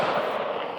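A single sharp report from an SG36 rifle firing .223 Remington steel-cased hollow point ammunition on an outdoor range, loud and close, with a brief ringing decay.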